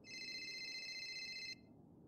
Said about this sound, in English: Somebody's calling me.